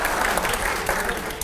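Studio audience applauding loudly and steadily at a Hindi television news debate, a dense wash of clapping that fills the whole moment without any talk over it.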